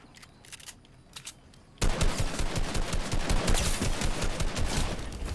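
Dense, loud automatic gunfire from a bot in a first-person shooter video game, a rapid continuous burst that starts abruptly after a couple of seconds of faint game sounds and keeps going to the end.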